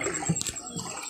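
People wade through waist-deep floodwater on the way to their flooded village homes, with close sloshing and splashing in quick uneven surges.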